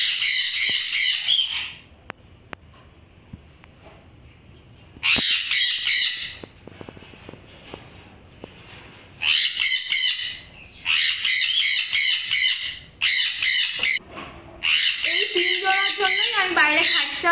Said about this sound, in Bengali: এখানে রয়েছিল রেড স্প্লিট সানের কলোনি।